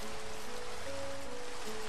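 Steady rain falls in the video game Minecraft, a continuous broadband hiss of drops and trickling water that stays even and moderately loud throughout, with faint tonal game sounds underneath and no talking.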